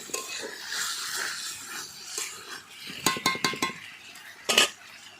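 Metal spoon clanking and scraping against a pot as meat is stirred over a fire at an outdoor Christmas picnic, with a quick run of clinks and one louder knock over faint background chatter.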